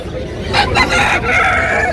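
A rooster crows loudly and nearby in a drawn-out call, set against a busy, noisy outdoor background at a cage and pigeon sale in Malabon.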